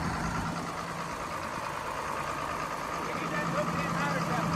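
A 1990 John Deere 4955 tractor runs with a steady engine drone while it drives and shifts through its gears, and voices talk over the engine noise.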